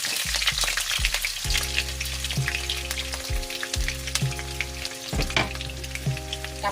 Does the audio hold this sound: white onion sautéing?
yes